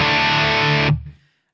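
A distorted electric guitar in drop D tuning strikes one heavy chord that rings loud and alone for almost a second, then cuts off quickly into a short fading tail.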